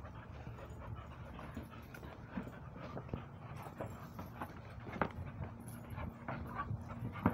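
Several dogs at a military K-9 kennel facility panting and whimpering in an enclosure, a steady close breathy panting with occasional small yelps and clatter throughout.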